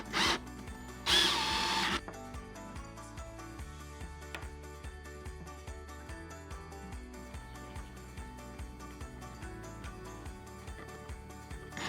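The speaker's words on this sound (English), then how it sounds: "place my screws in so I can drill both in at once" A power drill drives screws into a wooden dresser base, with two short whirring bursts near the start followed by a steady rhythmic backing with no further drilling.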